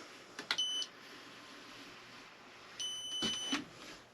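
Two short electronic beeps from a stud finder on a pantry wall, about two seconds apart, sound close by over quiet room noise and light handling.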